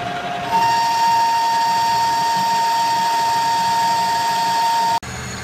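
A lathe cutting with a 1-inch boring bar gives a loud, steady high-pitched tonal whine over mechanical hum for several seconds, then stops abruptly.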